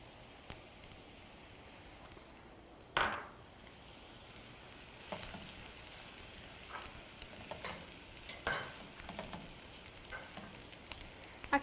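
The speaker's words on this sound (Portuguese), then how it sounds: "fica gostoso dourar, cozinhar a carne no óleo de coco mesmo" Ground beef (patinho moído) frying in coconut oil in a pan gives off a quiet, steady crackling sizzle, with occasional louder pops and spatula scrapes over the continuous hiss.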